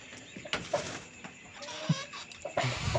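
Chickens and quail in a coop at night give scattered short clucks and chirps, some faint and some close, over a low background hum.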